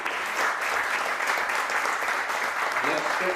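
A stage audience applauds the cast of a Sita Ka Tyaag play with dense, sustained clapping at a steady loud level, with some voices mixed in.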